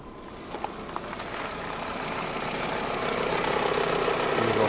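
A warm Subaru Legacy engine idles after a repair for a P1507 idle fault, giving a continuous close, dense mechanical rumble that grows slightly louder and steadier over a few seconds.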